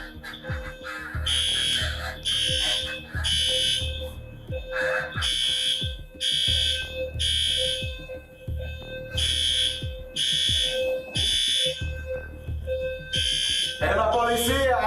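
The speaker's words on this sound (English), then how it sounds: "the smoke alarm started blaring" A smoke alarm blares in a room during a police arrest, sounding as a loud, regular series of piercing electronic beeps that repeats steadily throughout.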